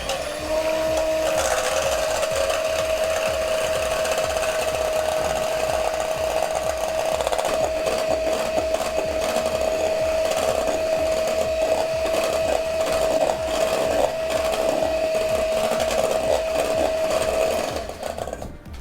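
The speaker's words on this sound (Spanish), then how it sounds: "Pues ahora con la batidora" An electric hand mixer whipping egg whites to stiff peaks whirs loudly and continuously at close range with a steady motor tone and a rough, scraping texture, running without pause until near the end.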